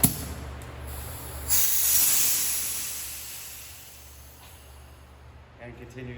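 Air hisses steadily out of a leaking air bag suspension fitting on a 2018 crew cab Silverado, a close broadband leak that swells briefly and then fades.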